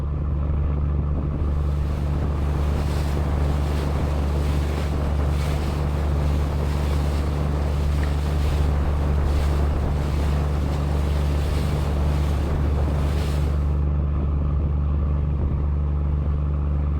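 A boat pushes through waves and tidal current at sea, a constant loud rush of water and wind buffeting the microphone, with no voices.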